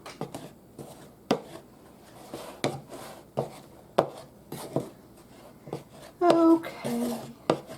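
Pastry cutter working butter into buttermilk biscuit dough in a bowl, giving sharp, irregular chopping thumps and scrapes spaced a second or so apart, with a voice talking in between.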